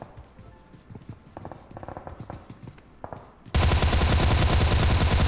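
PUBG Mobile gunfire: scattered distant shots and thumps at first, then a sudden loud, sustained burst of rapid automatic fire that holds to the end.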